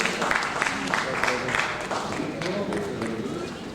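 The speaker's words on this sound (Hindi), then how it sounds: "तालियों के साथ अभिवादन अभिनंदन।" Audience applause at a school annual day ceremony in India, a moderate crowd clapping steadily amid hall reverberation and some background noise, without a clear beginning or end.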